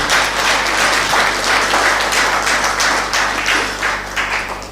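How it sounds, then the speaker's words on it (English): A crowd applauds steadily at a SACCO annual general meeting, many hands clapping at once in a loud, sustained burst that tapers slightly toward the end. "Give him a clap."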